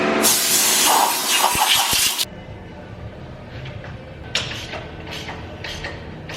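Compressed air blasts debris off a corn planter near its seed meters and tubes, a loud hissing rush lasting about two seconds before cutting off, followed by quieter mechanical background.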